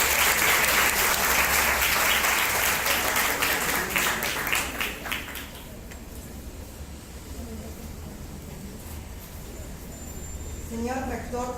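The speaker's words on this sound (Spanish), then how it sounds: "La recibimos con fuertes aplausos" Audience applause welcoming a psychology faculty lecturer at a university psychology week ceremony, loud and dense at first, then fading into a quieter room tone, with a voice speaking faintly at the end.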